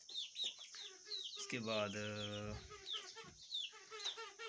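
A backyard rooster crows once in a loud, drawn-out harmonic call amid the steady chatter and clucking of other chickens and chirping birds, with someone talking quietly nearby.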